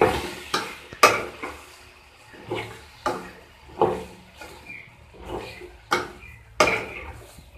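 Chopped potatoes being stirred into frying masala in a pan: a steady series of about a dozen sharp spoon scrapes and clunks against the pan at roughly half-second intervals, close and distinct, with no talking.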